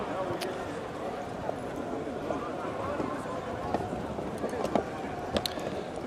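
A hooded racehorse walks gently around the parade ring at a racing club, its hooves clip-clopping faintly and irregularly beneath steady commentary and crowd murmur.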